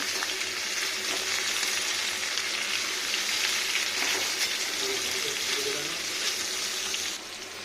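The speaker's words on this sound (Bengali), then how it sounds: "এবার ভাজা ভাজা হয়ে এসছে।" Carrots, beans, eggplant and potatoes fry in hot oil in a pan for a Bengali vegetable curry, producing a loud, constant hissing sizzle that runs unbroken and drops off slightly at the very end.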